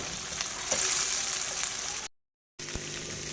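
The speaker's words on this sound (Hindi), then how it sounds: "मसाला मैंने बना लिया और इसके अंदर डालते हैं मगज और बस इसको करूँगी मैं अच्छे से फ्राई" Melon seeds (magaz) fry in oil with masala, a steady close sizzle with a brief gap of silence before the frying resumes.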